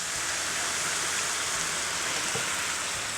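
Chateau St. Jean Cabernet red wine poured into a hot pan with shallots makes a loud, dense, unbroken hiss of boiling liquid for the whole few seconds.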